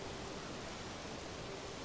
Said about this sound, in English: Well, it's just raining.